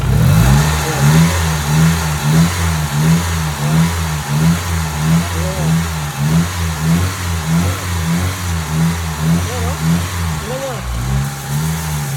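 A Mitsubishi Lancer engine idles with a fluctuating rhythm, its revs rising and dipping repeatedly, with the idle air control valve bypassed, close and steady, with a voice talking over it.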